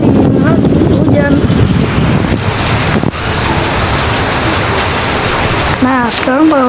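Rain in the WorldBox video game, a loud dense hiss of falling water that persists throughout, with a few brief tonal chirps rising over it near the end.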